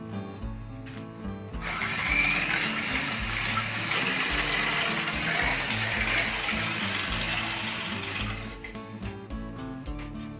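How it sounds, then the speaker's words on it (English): Dahi being whisked into chocolate strawberry cupcake batter, a continuous whirring beater buzz that runs loud and steady for several seconds, then stops, with faint background music throughout. "Now I'll add dahi. And I'll whisk it for another minute."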